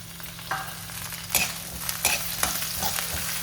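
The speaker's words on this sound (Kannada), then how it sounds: "ಉಳ್ಳಾಗಡ್ಡಿ ಫ್ರೈ ಆಗೈತಿದ್ದು, ಆಲೂಗಡ್ಡೆ ಹಾಕ್ತೀನಿ" Onions frying in a pan as potatoes are added for a veg cheese Maggi, a steady sizzle broken by a few sharp scrapes and clatters of the utensil, close and moderately loud, with no talking.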